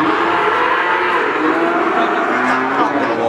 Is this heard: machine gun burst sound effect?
no